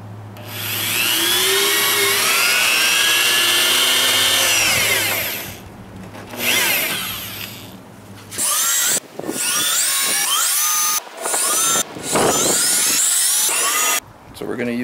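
Power drill driving screws into a wooden gate, a loud whining motor run of several seconds, then a series of short bursts with brief pauses between, as a person talks over and between them.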